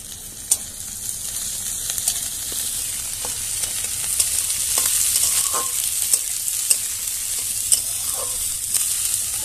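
Capsicum, beans, carrot and green chilli frying and being stirred in a pan, a steady sizzle with scattered scraping clicks of a utensil, close and continuous with no talking.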